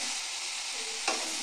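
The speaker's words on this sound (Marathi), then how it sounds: "थोडंसं याला परतून घेऊया आपण" Tomatoes and whole spices sauté in a pan with a steady, close sizzle and a single stirring scrape near the end, no voices.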